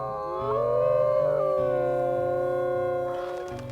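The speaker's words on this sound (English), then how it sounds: "Do a double howl." A wolf in the WolfQuest video game gives a double howl, two long rising and wavering tones sustained clearly and close for several seconds, then fading out.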